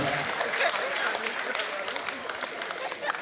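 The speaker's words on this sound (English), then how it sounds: "Clap for me or receive it" An audience at an African stand-up comedy show claps and cheers, a dense, fairly soft wash of applause with talking mixed in underneath.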